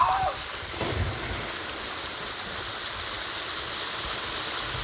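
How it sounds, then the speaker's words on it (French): A natural waterfall, the kind people slide down while hiking, makes a steady broadband rush of falling water that stays close and even throughout, with a brief splash near the start. "On est obligé de prendre cette cascade là."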